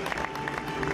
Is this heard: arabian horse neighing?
no